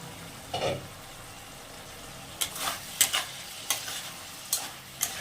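Spices and boiled potatoes being stirred and fried in a pan for an amudi fish curry with spring onions, a quiet sizzle under several sharp scraping strokes of the spoon, close and fairly soft.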